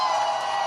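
A brief burst of crowd cheering and whooping, steady and moderately loud, heard alone as a short sound effect.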